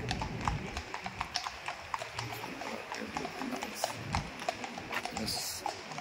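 Horses' hooves clip-clop on the road by Buckingham Palace in London, a quick, uneven patter of many hooves close by that carries on throughout, with faint street sounds underneath.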